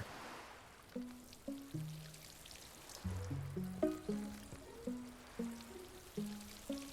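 A farming game aboard a plesiosaurus houseboat plays soft watering sounds as crops are watered, with gentle splashy pulses recurring about every second over light chiming tones. The sound is quiet and stays clear of talk.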